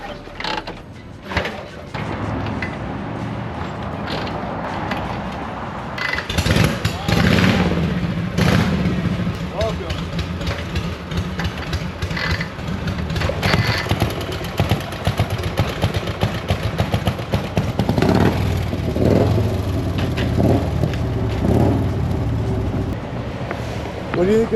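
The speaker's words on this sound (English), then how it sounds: "They're trying to bump start it." Several 1950s Harley-Davidson Panhead motorcycles, hot from riding, are kicked and bump started, with repeated mechanical clatter and sputtering engine bursts mixed with people talking nearby.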